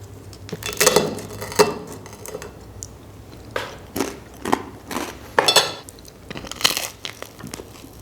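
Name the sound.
biting into crispy Egyptian hawawshi meat sandwich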